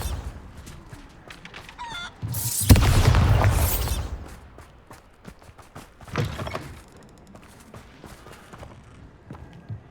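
A Bombarda blasting spell explodes in Hogwarts Legacy as one loud, booming blast. It rumbles and fades over about a second and a half, followed by smaller thumps and quiet ambience.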